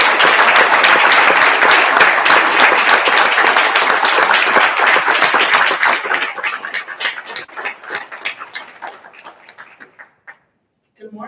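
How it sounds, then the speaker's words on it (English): Applause for David Burke at a medical association's annual business meeting, loud, dense clapping that gradually thins into scattered individual claps before fading out. "can I ask us to give a round of applause to David Burke?"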